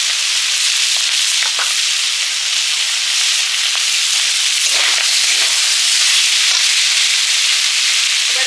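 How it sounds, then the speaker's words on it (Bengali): Cumin and coriander fry in a pan in a village home kitchen, a loud, constant sizzling hiss with faint crackles and no voices. "ভাজা জিরে ধনে"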